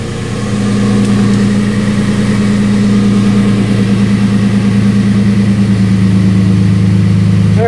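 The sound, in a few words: Nissan Frontier pickup engine idling with dual exhaust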